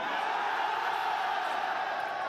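A crowd at an esports watch party for a Black Ops 6 Esports World Cup 2025 match cheers and whoops steadily, a fairly faint, even swell of voices heard at a distance.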